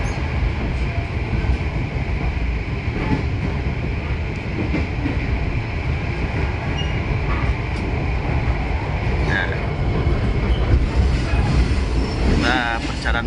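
A local Malang–Surabaya train pulls into Singosari station with a loud, steady rumble of rolling wagons that fills the whole stretch, and a faint wheel squeal rises near the end.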